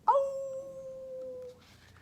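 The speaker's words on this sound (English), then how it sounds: "Saturday's dog likes to howl a song" A single dog howls in one long, clear, sustained note that holds steady for about a second and a half before trailing off, heard alone and close.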